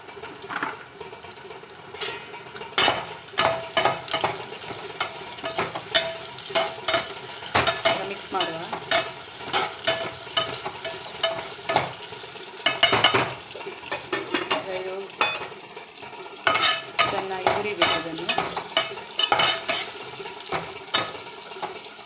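Carom seeds, fenugreek and mustard seeds fry in hot oil for a mushroom gravy, crackling and popping in dense bursts while a spoon scrapes and stirs the pan throughout, close and lively.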